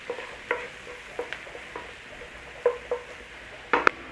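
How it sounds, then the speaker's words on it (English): Onion and garlic cooking over a low flame in a pan, a soft steady sizzle beneath scattered light taps and clinks of a utensil stirring against the pan. "Cook off the rawness of the onion and garlic."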